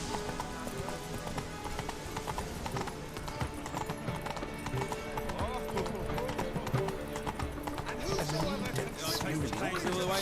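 Roach, the horse in the video game The Witcher 3, gallops with rapid, rhythmic hoofbeats and occasional whinnies, running continuously and fairly close while a person talks over the action.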